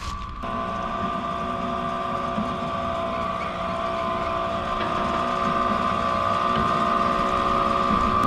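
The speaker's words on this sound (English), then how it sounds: "Still pumping oil out here, all these years later." The old Daisy Bradford No. 3 discovery oil well near Kilgore, East Texas, still pumping, gives off a steady, unbroken mechanical drone with a faint whine, heard at moderate distance outdoors.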